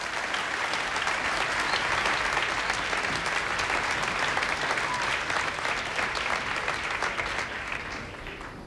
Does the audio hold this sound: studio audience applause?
yes